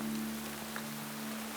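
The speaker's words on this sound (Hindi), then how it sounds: "बारिश काफी तेज है।" Heavy rain pouring steadily in a dense, even hiss, with a faint low hum underneath and no voices.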